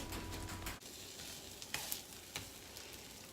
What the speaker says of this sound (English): I'm still gonna grab my spatula and finish cooking this egg